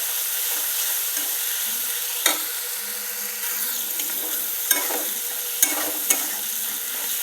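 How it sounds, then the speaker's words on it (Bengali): Spice paste of turmeric, salt and coriander powder being stir-fried in a pan for a Bengali dal dish, a steady close sizzle with occasional scraping clicks of the spoon, heard alone without talk. "সে পেস্টটা দিয়ে আবারও মশলাটা একটু কষে নেব।"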